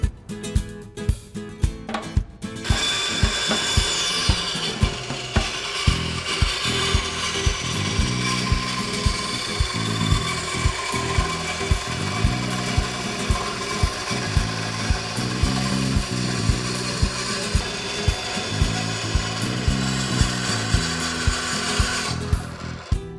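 A bandsaw cuts through a piece of scrap wood, a continuous loud mechanical whine with a rapid, rhythmic ticking rattle. The cut starts after a brief moment and stops just before the end, with no one speaking.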